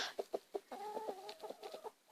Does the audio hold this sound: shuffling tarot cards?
no